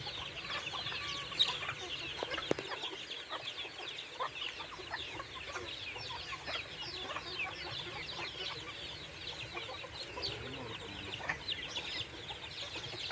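Chickens cluck steadily at a small fish-pond farm, a dense chatter of short clucks running throughout, with occasional louder calls over an outdoor background.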